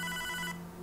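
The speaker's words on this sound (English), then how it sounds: "It's the phone." A telephone in the video game Hotline Miami 2 rings in a short burst of electronic trilling bell tone that cuts off after half a second, leaving a steady low hum.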